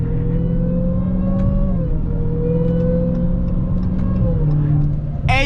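A 707hp car on Blizzak snow tires cruises and weaves through lanes, its engine droning steadily with rising and falling pitch as it shifts, close and loud from inside the cabin.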